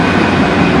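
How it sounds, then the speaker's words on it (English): An East Midlands Class 153 train departs Stoke-on-Trent towards Derby, a loud, steady, low engine drone with rail rumble close by. "Off goes East Midlands train service through to Derby from from Crewe"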